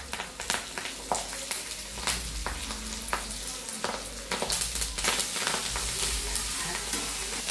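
Ginger, garlic, green chili, coriander masala and curry leaves frying in hot oil in a pan for spicy village-style vada pav filling, a continuous sizzle punctuated by repeated scraping stirs, close and fairly quiet with no talk.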